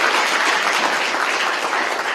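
An audience at a TEDx event in Rotterdam applauds the stage technician, producing a short burst of dense, loud, even clapping with no breaks.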